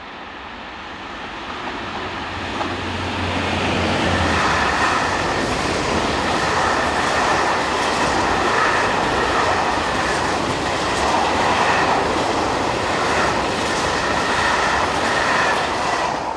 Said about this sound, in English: Here, Infra Sector 75092 heads a northbound set of empty wagons for the factory